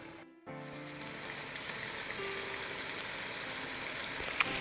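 Sausage and bell peppers simmering in a pan give a steady, close sizzle that starts after a brief quiet moment and keeps a constant bubbling hiss, with one small clink near the end.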